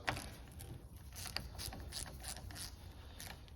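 A ratchet clicks as it cracks loose Torx bolts on a Renault diesel fuel filter, giving a close, moderately quiet series of mechanical ticks and creaks with no talking.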